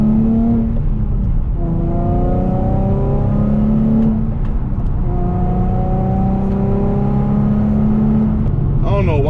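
A Nissan 350Z Nismo engine revs hard through rising gear pulls, its loud droning tone climbing, dropping at shifts and climbing again, heard from inside the car with a voice speaking over it.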